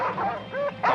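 Cartoon dogs in an animated Batman episode bark and yip in quick bursts across a short moment, loud and close, with a higher whimpering yelp near the end.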